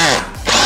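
A power drill drives screws into a lightweight wall frame, a loud close whine that dips briefly and then spins up again within a short burst.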